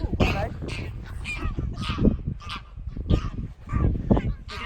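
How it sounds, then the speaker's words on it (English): Geese honk loudly and repeatedly at close range on the North Norfolk coast, a noisy overlapping chorus of harsh calls with some voices mixed in. "These geese have recognised us."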